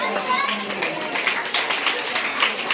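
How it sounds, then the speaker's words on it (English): Students at a school badge ceremony clap in a quick, uneven patter that runs throughout, while an adult voice and children's chatter carry on over the applause. "Until I say stop, you have to clap."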